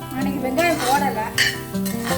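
Chana dal sautés in hot oil in a pan for beans paruppu usili and is stirred with a spoon, giving a steady sizzle with scraping and clinking strokes under a tonal, melodic background.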